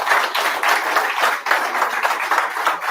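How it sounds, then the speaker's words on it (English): A close, full round of applause from a crowd at a customer appreciation event, cheering a man named Mike with steady, dense clapping throughout. "let's give a round of applause for Mike"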